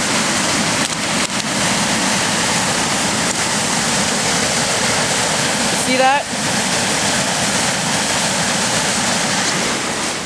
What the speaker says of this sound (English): it's just a peaceful little waterfall in the summer, but when it rains, it gets pretty raging